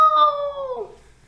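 A person's voice imitates a rooster's cock-a-doodle-doo as a single drawn-out, wavering tonal howl that slides downward and fades, sounding more like a wolf or dog howl, close and fairly loud.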